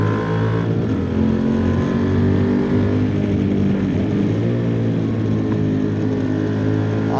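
The QJ Motor SRT 800 motorcycle engine runs at a steady low-rpm drone, a deep continuous rumble with little change in pitch while cruising.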